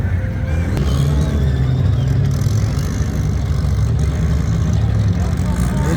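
Turbo Smart Ford Raptor launching in all-wheel drive at Tarlton International Raceway, a loud, steady low engine roar running throughout with excited voices shouting over it.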